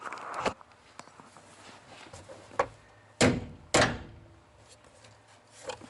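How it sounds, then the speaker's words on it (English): A hammer knocks at the interior trim clips of a 2003 Honda Civic EX coupe, a few sharp, separate thuds spaced irregularly, two close together in the middle, with faint handling noise between them. "just hit them with a hammer to knock them loose"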